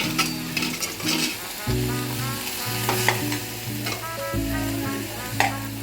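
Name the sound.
spinach sautéing in a pan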